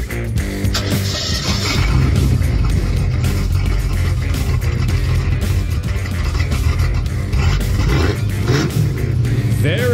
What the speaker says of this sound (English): That was Christopher's 1984 Mustang GT